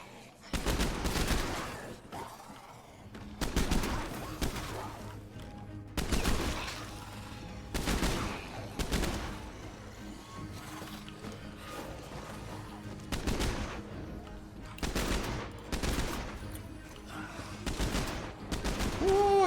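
Gunfire from a weapon in the video game State of Decay 2, heard as repeated bursts of rapid shots broken by short pauses, loud and close across the whole stretch.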